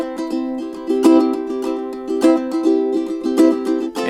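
A ukulele picks out a song in a steady, repeating pattern of bright plucked notes with occasional louder strums, close and clear, with no singing or talking.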